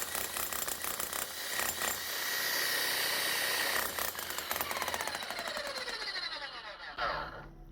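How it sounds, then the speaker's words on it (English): Bosch GSH 11 E demolition hammer with a manufacturing fault running, a loud, dense rattling hammer action that continues throughout and winds down with a falling whine near the end. "So it is hammering, but it's not hammering down under its own weight"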